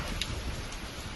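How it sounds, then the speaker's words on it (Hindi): Heavy rain from Cyclone Remal pours over coastal West Bengal, a steady, dense wash of downpour for a brief moment, with no voices. "बारिश हो रही है।"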